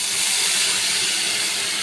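Water poured into a hot pan of onion and egg curry sets off a loud, steady hiss of steam and sizzle that holds evenly through the whole moment, with no talking.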